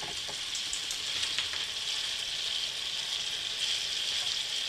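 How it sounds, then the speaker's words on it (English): Filet medallions sizzle steadily in a pan as they are basted with an oil and butter mixture, producing a continuous, even frying hiss with small spits and crackles throughout. "the oil and butter mixture, up on top of the filet medallions, really keeping them all moist, letting the pan do a lot of the work for you here"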